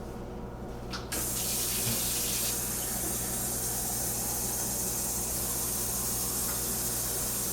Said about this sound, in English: I'm gonna grab some water.